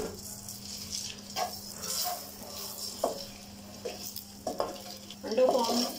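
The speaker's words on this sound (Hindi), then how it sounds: "अंडों को हम गोल्डन होने तक फ्राई करेंगे।" Eggs fry in masala in a pan for egg korma, a soft sizzle under intermittent stirring clinks and scrapes, while someone talks over the cooking.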